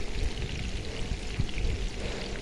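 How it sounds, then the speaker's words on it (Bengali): Sea fish frying in a pan of hot oil over a high flame, a dense, continuous crackling sizzle heard up close with no voices. "এই যে দেখুন মাছগুলো ভেজে নিতেছি আমি"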